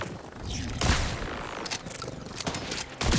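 Shotgun blasts in the video game Borderlands 4: a few loud booming shots spaced apart, with a sharp report near the start and another near the end, separated by mechanical reload clatter.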